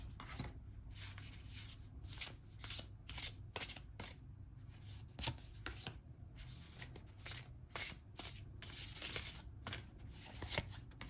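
Tarot cards being shuffled by hand during a pick-a-card reading: quick, crisp riffles and slides in irregular bursts, close and fairly quiet, with no talk.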